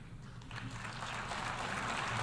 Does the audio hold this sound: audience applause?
yes